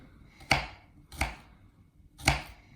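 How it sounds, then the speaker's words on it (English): A knife cuts onions on a board, three separate sharp chops spaced unevenly, close and clear against a quiet background, with no talking. "The onions, we are going to cut them fine cut"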